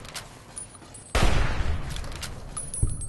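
Sustained gunfire in the video game Fallout New Vegas breaks out abruptly after a quieter opening, with a rapid, loud fusillade of shots rattling on continuously to the end.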